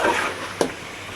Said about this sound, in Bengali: কষাইতেছি এখন মাংসটা